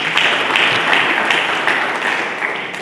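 Loud, sustained congregation applause in a church service, dense clapping from many people filling the whole stretch without pause.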